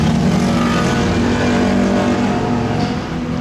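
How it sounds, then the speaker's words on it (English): Motorcycles pass close by on a street in Japan, a loud, sustained engine roar with layered revving tones that eases slightly toward the end. "There's a lot of motorcycles."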